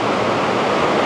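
Heavy ocean surf rushing continuously at La Laguna Beach during a typhoon, a loud, dense wash of crashing waves with no pauses.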